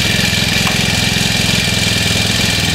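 A small gasoline grass cutter engine runs steadily at a loud, close, buzzing idle, with a constant rapid pulsing and no speech over it.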